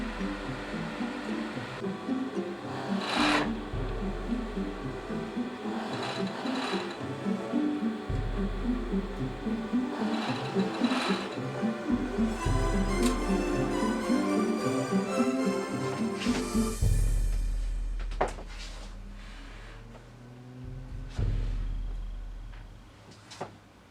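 A sewing machine stitches along the crease of a shirt sleeve seam as the sleeve is shortened, a steady rhythmic mechanical run for most of the stretch before stopping, followed by a few handling clunks and rustles.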